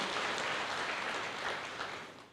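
A church congregation claps in sustained, dense applause, a broad wash of many hands close by that tapers off toward the end.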